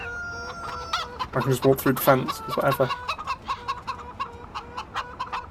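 Chickens cluck and a rooster crows repeatedly in the Farming Simulator 17 video game, a cluster of loud clucks in the middle, with lighter calls continuing throughout and someone talking over the start.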